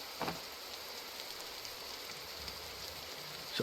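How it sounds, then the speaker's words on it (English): Steady rainfall in a video game, a constant soft hiss of falling rain with a few faint patters, heard alone without any voices. "It rains entirely too much in this game"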